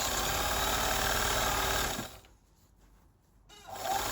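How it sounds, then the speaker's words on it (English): A sewing machine runs fast and steadily while stitching elastic onto a sports bra, stops abruptly for about a second and a half, then starts up again, loud and close with no voices. "So my stitches are going to be bigger as I stitch"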